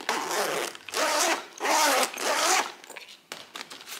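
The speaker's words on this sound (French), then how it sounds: "J'aime trop cette fermeture, hyper originale." A bag's zipper is pulled open and shut in several quick rasping strokes, close and clear, with a brief pause between them.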